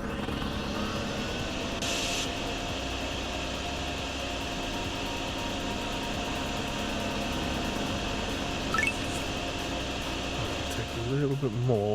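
A vacuum cleaner running in the drain-clearing video game DrainSim, a steady mid-volume motor drone lasting throughout, with a few brief clicks and a short rising sweep near the end.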